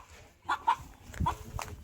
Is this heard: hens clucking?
yes